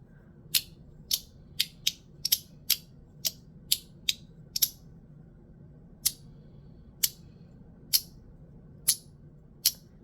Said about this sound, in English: And it's very strong, very positive clicking.